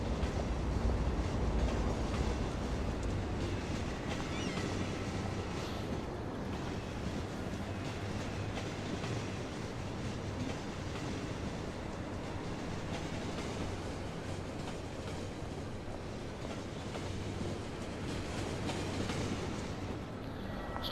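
Trams run on rails in the Cities: Skylines city-building game, a steady rumbling, rolling rail noise that carries on without a break and with no voices.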